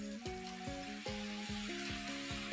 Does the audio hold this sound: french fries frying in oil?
yes